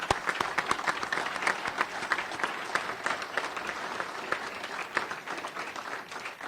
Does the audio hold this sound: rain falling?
no